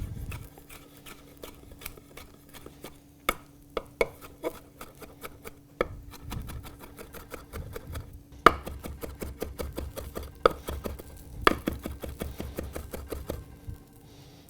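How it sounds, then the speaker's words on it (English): A knife chops Vidalia onions repeatedly on a cutting board in quick, uneven bursts of sharp taps, close and fairly quiet, with no talking. "You want to be careful chopping these because they'll be very slippery and slidey"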